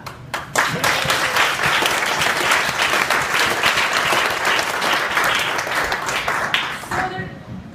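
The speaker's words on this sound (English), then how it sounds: "So to them, let's clap." An audience at a neighborhood bike shop's grand opening breaks into loud, dense applause that holds steady for about seven seconds, then fades out near the end.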